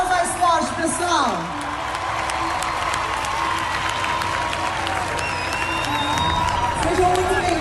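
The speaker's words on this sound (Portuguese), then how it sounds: "Vamos dar uma salva de palmas mais forte," An audience at an afternoon event in São Paulo breaks into loud applause and cheering, dense clapping sustained throughout with a voice speaking over it at the start.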